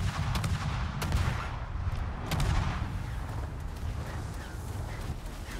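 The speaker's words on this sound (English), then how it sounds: "All his guns were firing at us." Enemy destroyer guns in World of Warships fire in a rapid, overlapping series of sharp booms over a constant dense battle rumble, loud and close, with no voices.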